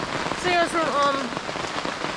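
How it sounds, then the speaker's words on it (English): Heavy rain pours steadily onto a tent at a Florida lakeside campsite, a dense continuous patter, while someone speaks briefly over it. "as you can hear that it's like pouring raining outside right now"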